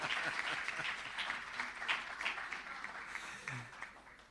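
Audience applause at an accreditation awards ceremony, a steady wash of clapping that gradually thins and fades over a few seconds.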